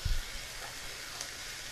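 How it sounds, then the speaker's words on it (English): Onion thrown into a frying pan with olive oil sizzles, a steady close hiss throughout, with a soft clatter at the start and a brief knock near the end. "Hear that sizzle."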